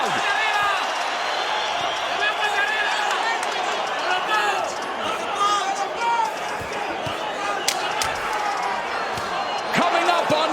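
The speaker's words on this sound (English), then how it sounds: "Let's listen to this crowd." A boxing arena crowd cheers and roars continuously during a bout involving Isaac Cruz, a dense, loud wash of many voices with sharper shouts and whoops rising over it and thumping impacts now and then.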